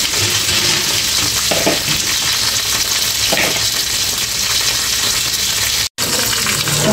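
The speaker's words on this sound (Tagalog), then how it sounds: "pwede po pala tayo mag-ihaw sa ating kawali" Food grills in a kawali frying pan, inasal-style, with a loud, continuous close-up sizzle and crackle that breaks off for an instant near the end.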